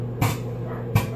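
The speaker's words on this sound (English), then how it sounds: "That is my dog outside. He is barking." Two short, sharp dog barks ring out outdoors about a second apart, somewhat distant, over a steady low background hum.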